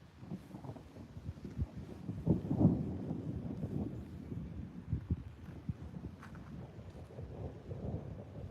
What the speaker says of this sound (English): I mean, it's thundering, but it's not raining.